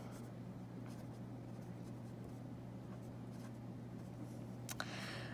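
Pen strokes writing a chemical formula by hand during a chemistry lesson: faint, soft scratching against a steady low hum, with a slightly sharper stroke near the end and no speech.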